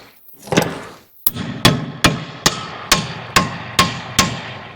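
A hammer strikes hard and repeatedly, about eight sharp metallic blows in a steady rhythm, each ringing briefly before the next, close and loud.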